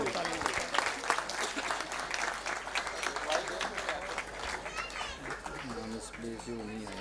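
A church congregation at a thanksgiving first holy mass gives loud, sustained applause, a thick continuous clatter of many hands with murmured chatter underneath, and a voice rising above it near the end.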